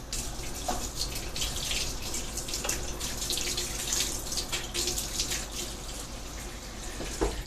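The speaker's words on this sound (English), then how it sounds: "First, I'm just going to run that under cold water very quickly." Cold water runs steadily from a tap over a wooden bow limb, a close, continuous splashing rush with occasional small knocks as the limb shifts in the stream.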